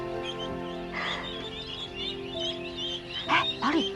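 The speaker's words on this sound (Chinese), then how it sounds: "好可爱的小鸭子哦！" Ducklings in a duck shed giving faint, brief quacks and peeps over a steady mechanical hum, with a couple of louder calls near the end.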